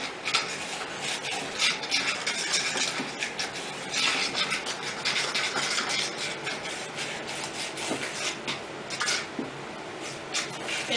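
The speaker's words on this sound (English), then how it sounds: "I just use a fork and mix it up really well." Butter and egg worked into cookie dough with a fork, giving a steady stream of close, scraping and tapping strokes against a bowl, fairly even in loudness with no voices.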